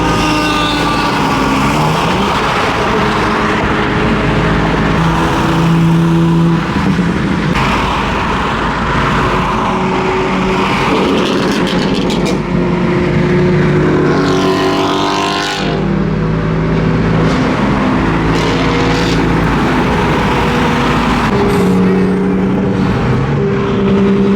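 Several BMW cars drive past close by one after another, their engines loud and revving, with strong passing swells and drops in pitch over a continuous road roar. No one speaks.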